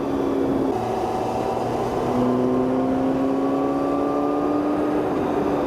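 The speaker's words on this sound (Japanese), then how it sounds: "5速で今ちょうど3000回転ぐらい、ここからスロットル上げてきます。" A Honda CBR1000RR-R Fireblade SP motorcycle accelerates in fifth gear from about 3000 rpm on an expressway. Its steady engine drone rises slowly in pitch against heavy wind noise, with no talking.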